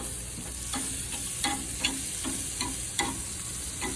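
Sausages and shrimp on a grill give a steady close sizzle, with repeated light taps and scrapes from tongs or a spatula every half second or so.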